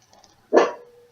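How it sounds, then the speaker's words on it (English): A single loud dog bark rings out close by, sharp at onset and trailing off, in an otherwise quiet indoor room. "My dog. Sorry about that."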